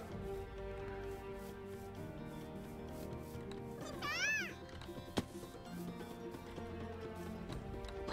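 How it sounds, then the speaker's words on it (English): A brief high, rising cry from a Pikachu in the Pixelmon Minecraft game sounds once at mid-clip, fairly faint over a steady background hum and game tones, followed by a single sharp click. "Did I just hear a Pikachu?"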